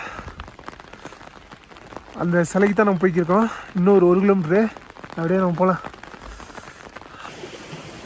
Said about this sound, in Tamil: மழை சரியான மழை பெய்யுதுங்க.